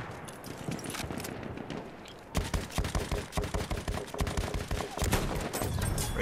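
Rapid gunfire from a Battlefield 1 battle, with a dense fusillade of loud, close shots that sharpen and crowd together after a softer opening.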